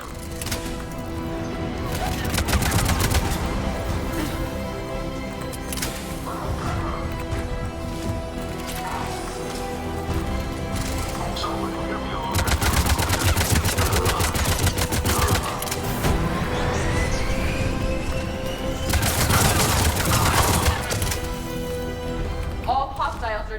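Enemy gunfire rattles through a firefight in the video game Mass Effect 3, with dense bursts of automatic shots that swell and fade while voices talk over the action.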